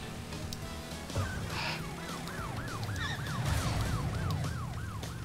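Police car sirens wail in the video game Crash Bandicoot Warped, a rising-and-falling electronic whoop repeating steadily over low engine rumble and game sounds.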